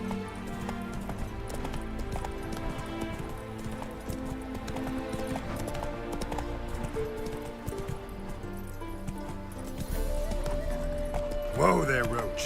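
Roach, Geralt's horse in The Witcher 3, clops along with steady hoofbeats under game music and ambience, with a voice speaking and a brief whinny-like sound near the end.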